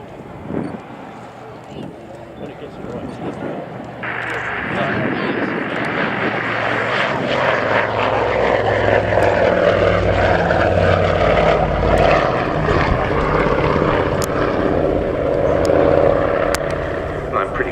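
A civilian Avro 19, the Anson prototype of the new build, makes a display pass at the Scampton airshow. Its propeller engines drone in, swell to a loud, rough roar overhead and hold there while an announcer talks over it.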